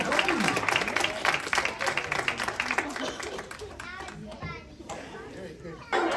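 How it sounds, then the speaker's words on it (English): Children at a library kids' activity break into a round of clapping and excited chatter, a dense burst of small hands applauding up close that fades toward the end while young voices and an adult continue talking. "Big clap for our friend Mia."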